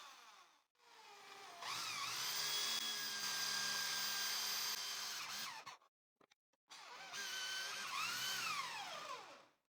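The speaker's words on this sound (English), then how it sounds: "Here, I drilled using a 25 millimeter Forstner bit, and at these 2 points, I used a 10 millimeter Forstner bit." A 25 mm Forstner bit bores into scrap wood with a loud, steady whining drill hum, broken by a short pause, then a second burst that winds down at the end.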